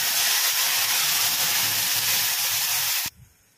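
Spice paste poured into hot oil with bay leaf, dried chilli and cumin for a Bengali rui fish and potato curry, giving a loud, steady, close sizzle that cuts off abruptly near the end, leaving faint background noise.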